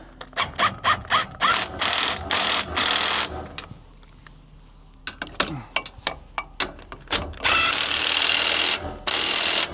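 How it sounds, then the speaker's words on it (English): Ratchet clicking as bolts are tightened on an electric trailer jack, in several close bursts of rapid loud clicks separated by short pauses, with a quieter stretch in the middle. "So we're going to go ahead and tighten up the two outside bolts first."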